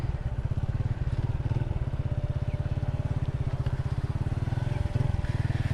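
A motorcycle being ridden on a road trip from Rawalpindi to Islamabad, its engine putting out a fast, even low throb that stays moderately loud and steady throughout, with no talking.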